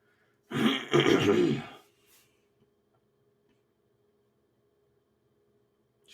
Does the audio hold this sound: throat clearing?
yes